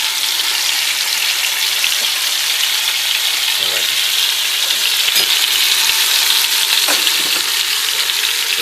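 Carrots and onions fry in a pot for Algerian chorba, a steady loud sizzle running unbroken throughout, with a few soft stirring scrapes and knocks in the middle and toward the end.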